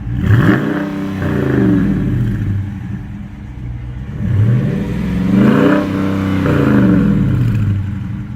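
A deep Dodge Challenger V8 stock exhaust revs up and down in several loud, rumbling bursts, each rising in pitch then falling back to idle, with no voices.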